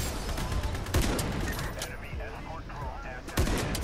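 Gunfire rattles in the online shooter game IronSight, with sharp individual shots standing out over a dense, continuous bed of game noise and low-level talk.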